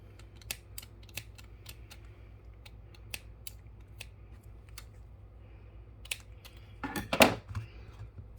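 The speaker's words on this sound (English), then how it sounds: "We're just going to snip them off." Scissors snip off leftover cord from a knotted connector bracelet: a run of small, crisp, evenly spaced clicks, quiet and close, ending in a brief louder rustle of handling, with no voices.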